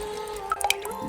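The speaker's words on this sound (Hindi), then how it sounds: "गिरती हुई एक बूंद की आवाज" Water drops fall one by one in a quiet room at night: a few distinct plinks in quick succession mid-clip over a steady low hum.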